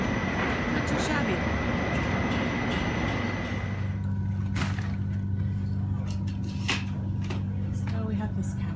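Inside a passenger train riding out of Salzburg, a continuous low rumble and hum fills the carriage and its tone shifts partway through, while people talk over it.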